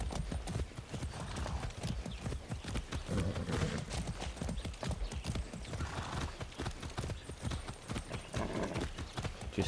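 Rapid, rhythmic clip-clop of horse hooves trotting steadily and up close in Far Cry 6, with a brief whinny partway through.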